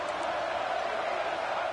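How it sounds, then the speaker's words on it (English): Stadium crowd at a college football game between Texas A&M and LSU, a dense, steady roar of many voices filling the air without breaks, moderately loud and distant. "Listen to the crowd energy here in the early going."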